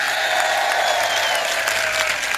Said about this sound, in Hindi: जोरदार ताली करौली प्रशासन के लिए